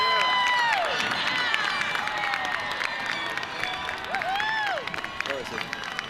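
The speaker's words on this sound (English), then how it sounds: "let's give one more big round of applause for the class of 2026" Crowd applause and cheering ring out for the La Sierra High School class of 2026 graduates at their ceremony, a steady wash of clapping and voices under high whistles and shouts throughout.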